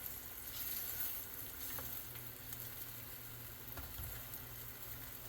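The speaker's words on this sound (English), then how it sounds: "You're just basically frying them" Steady oil sizzle and crackle of cheese frying in a pan, continuous and close, with soft scraping stirs now and then.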